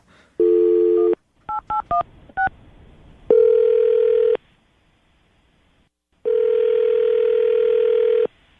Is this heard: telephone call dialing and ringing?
yes